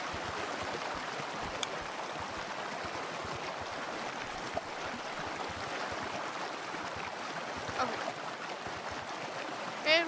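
Water flows and trickles steadily through a cave in a video game, with an ice pond above, a soft continuous wash at moderate level with a few faint clicks.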